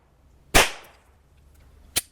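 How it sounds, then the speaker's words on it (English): A Smith & Wesson M&P pistol fires 9x19mm 165-grain subsonic FMJ rounds outdoors: one sharp, loud crack with a short decaying tail, then a second shot about a second and a half later. "We'll start with the M&P and we'll get out the CZ next."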